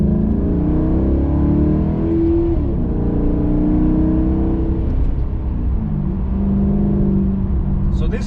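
Maserati GranTurismo engine droning steadily while driving, a continuous low hum with slight pitch shifts as it accelerates, heard from inside the car.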